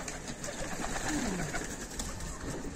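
Hungry Adana pigeons give a clear, close descending coo over a low background murmur of other faint bird sounds in their loft.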